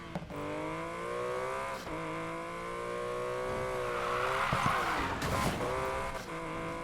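A Porsche 911 in the racing game Need for Speed Payback, engine droning steadily with rising and falling revs and gear shifts, a brief tire squeal midway, loud and continuous with no talking.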